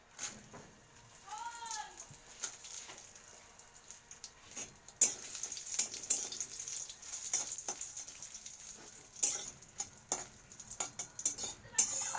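Dry red chilies sizzle and crackle in a very hot pan, with soft scraping and stirring against the metal, a steady close frying hiss broken by sharper pops and clinks.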